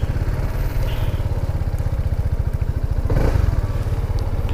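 BMW C 400X maxi-scooter engine while riding, a steady close, pulsing drone with rapid regular firing beats, growing slightly louder midway, with no voices.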